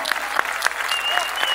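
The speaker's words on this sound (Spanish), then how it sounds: "un aplauso, venga, para la banda, claro, un aplauso grande." Festival audience applauding a band at a Eurovision-themed event, dense crowd clapping with a few cheers and whistles over it, steady throughout.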